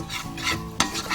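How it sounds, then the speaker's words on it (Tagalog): Chicken wings stirred in melted butter in a pan, a steady scraping stir over soft sizzling, with one sharper clack of the utensil against the pan partway through. "Nahalo lang natin sa butter. Make sure na nahalo siya na i-stir."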